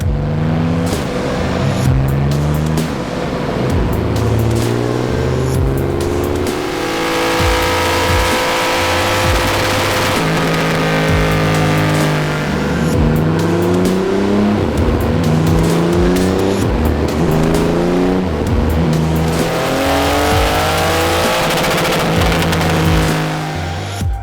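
A Triumph Rocket 3 R motorcycle running on a dyno, its big engine roaring loud and continuous through repeated rising revving sweeps, held at high revs and dropping back between pulls.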